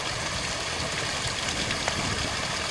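Clear water flows steadily in Maddens Creek, a constant broadband rush heard close by without pauses or talk.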